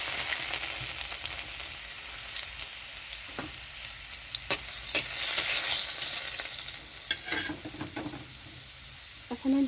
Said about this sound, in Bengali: তো এখানে সর্ষের তেলটা গরম হয়ে গেছে। এখানে দিয়ে দিচ্ছি রসুন।